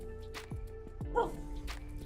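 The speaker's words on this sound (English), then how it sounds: "That was my dog, my deaf dog." Excited yips and short barks from a deaf dog eager to go outside, a few quick bursts close to the microphone over a steady background hum.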